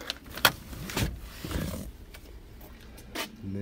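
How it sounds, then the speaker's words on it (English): Third-row seats of a 2016 GMC Acadia Denali AWD folding down, giving a sharp clunk, a heavier thud, a muffled shuffling fold and a final latch knock in the cargo area. "you can fold these seats down."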